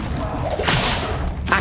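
The Incendio fire spell cast in Hogwarts Legacy on PS5, a short whooshing burst of flame over a steady game background.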